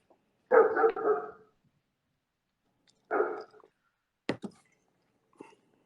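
Dogs bark at a home where a cattle dog mix and several boarded dogs are kept, a few separate bursts of barking with pauses of silence between them, fairly close and moderately loud.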